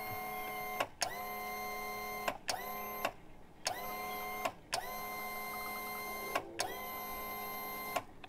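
An electric hydraulic trim motor on a boat whirs in repeated runs, each a steady whine lasting one to two seconds, separated by short pauses as the trim button is pressed and released.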